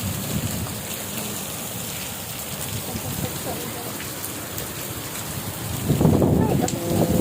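Heavy rain pours down outdoors in Saudi Arabia, a dense, constant hiss with low rumble that swells louder near the end. Faint voices may sit under the downpour.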